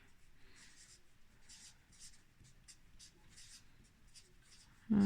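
Chalk or marker writing on a board during a physics lesson, a series of short scratchy strokes in irregular bursts, fairly quiet, ending with a sudden thump.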